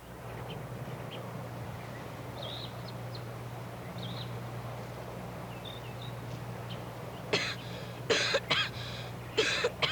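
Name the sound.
girl coughing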